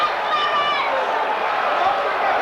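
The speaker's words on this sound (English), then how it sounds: "The crowd go wild." Football crowd at a Burnley match in the 1988/89 season roaring after a 1-1 equaliser, a dense, sustained wall of cheering and shouting from many voices with no breaks.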